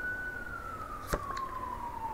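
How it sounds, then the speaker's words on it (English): A distant city siren wails in a slow, gradually falling tone, with a sharp knock partway through. "Excuse the sirens and everything if you can hear it."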